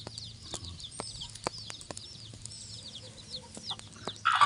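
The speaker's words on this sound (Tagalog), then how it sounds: "Mga manok yan ni Madam Tutsi." Pet chickens being fed whole corn kernels, with soft overlapping clucks and chirps throughout and scattered pecking taps, fairly close, ending in a louder burst of noise, no talking.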